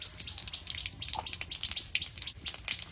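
Nigella seeds sizzle in hot oil in a wok, a faint crackle of quick, irregular pops and spits close by.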